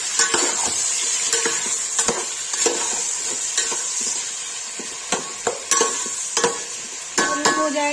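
Onions sizzle and fry in a pan while a spoon scrapes and stirs them for chicken masala, steady close sizzling broken by sharp clinks of the utensil against the pan.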